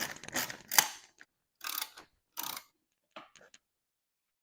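A ratchet loosening the 10mm bolts on the radiator shroud of a Kawasaki Vulcan 750 motorcycle, several close bursts of rapid clicking separated by short silences, with a few fainter ticks near the end.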